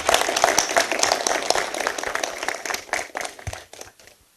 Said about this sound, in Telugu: అందరూ చప్పట్లు కొట్టున్నారు ఒకసారి.